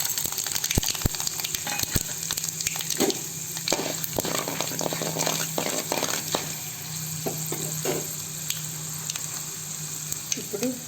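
Mustard seeds and chana dal fry in hot oil for idli upma, a close, steady sizzle threaded with irregular crackling pops and light stirring throughout.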